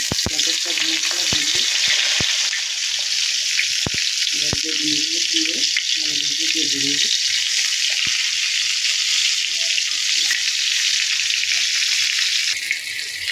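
Spiced eggplant slices fry in hot oil on a tawa, giving a continuous bright sizzle, broken by several bursts of stirring and sharp utensil clicks up close.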